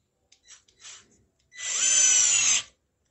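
A Deli 3.6V cordless screwdriver drives a PH2 screw: a couple of short whirring bursts, then a sustained, close, high-pitched motor whine lasting about a second before stopping.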